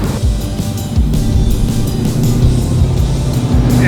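A 1935 Chevy hot rod with a stack-injected engine gives a loud, close, steady engine roar as it accelerates, rumbling throughout with no talking.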